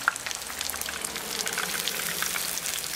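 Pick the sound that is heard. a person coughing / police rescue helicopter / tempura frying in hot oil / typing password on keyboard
tempura frying in hot oil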